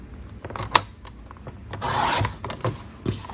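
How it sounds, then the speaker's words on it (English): Paper is cut for a handmade Christmas postcard with a few close scraping and snipping sounds and one sharp click, followed by a longer rasping stroke, all fairly quiet. "So I'm going to cut an inch off down here."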